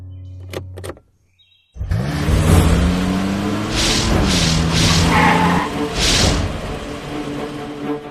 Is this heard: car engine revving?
yes